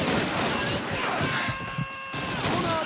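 Dense gunfire from Call of Duty 2 rattles through a World War II battle against German infantry, a continuous fusillade of rifle and machine-gun shots that dips briefly near the end before resuming, with soldiers' voices mixed in.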